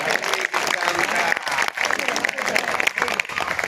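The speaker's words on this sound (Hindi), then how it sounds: "एक बार ताली बड़ी होनी चाहिए यार।" Audience applause at a Hindi poetry gathering in Etawah: sustained, dense clapping from a large crowd, with voices audible over it.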